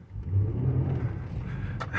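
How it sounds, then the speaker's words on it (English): Nissan Murano engine revving in reverse while stuck in snow, a steady low rumble building and holding near and loud, with a brief sharper burst near the end. "Put it in reverse. Then mash the gas."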